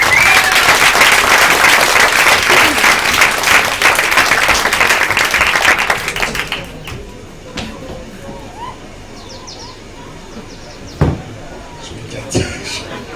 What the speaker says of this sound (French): Et ben, on peut applaudir